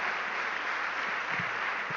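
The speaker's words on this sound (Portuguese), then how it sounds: "Pode aplaudir mesmo." A church congregation claps in a steady, dense wash of applause that holds evenly throughout, fairly soft and spread out, with a couple of faint low thumps underneath.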